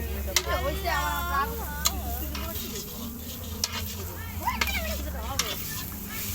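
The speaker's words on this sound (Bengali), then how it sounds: "কি সুন্দর ভাবে কষাচ্ছে" Chicken and vegetable curry is stir-fried on a clay stove, giving a steady frying sizzle with sharp scraping knocks of the spoon against the pan, while people talk nearby over a low hum.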